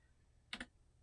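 A short double burst of computer keyboard typing, two quick close clicks standing out against a quiet room, with no voices.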